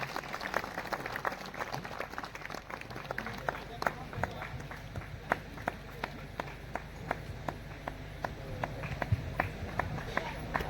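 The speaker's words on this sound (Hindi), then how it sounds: "तालियां बजती रहे भाई, एक बार जोरदार अतिथि का।" An audience at a Marar Patel community gathering in Barapali, Mahasamund, applauding guests with steady rhythmic clapping over crowd murmur, continuous and moderately loud with voices mixed in.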